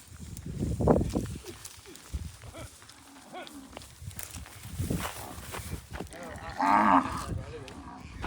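Kankrej cows moo several times, one low call early on and louder drawn-out moos later, with shuffling steps and outdoor background noise between them.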